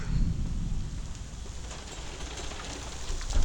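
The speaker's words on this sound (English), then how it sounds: "It's starting to rain again." Steady rain falls outdoors, a dense, even hiss with low rumbling underneath that carries on without a break, and nobody speaks.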